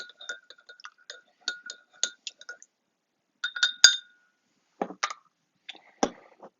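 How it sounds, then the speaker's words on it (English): Essential oils are stirred into homemade hand sanitizer with light clinks of a utensil against a glass container, a series of sparse taps and rings, close by and quiet between strikes. "You just stir it in there."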